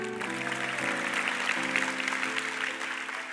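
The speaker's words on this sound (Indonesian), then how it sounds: "kasih tepuk tangan untuk Tuhan Yesus" A church congregation claps for Jesus in a steady wash of applause lasting a few seconds, with sustained keyboard chords shifting underneath.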